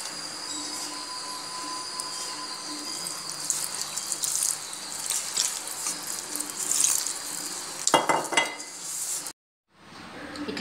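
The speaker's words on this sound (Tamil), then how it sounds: "இந்த பாலோட பிசையில் கொஞ்சம் தண்ணி ஊற்றி பிசைச்சுப்போம்." Appam batter of rice flour and rava being mixed and kneaded with milk and poured water to idli-batter consistency; a steady wet swishing and sloshing runs throughout, a little louder toward the end, then stops briefly.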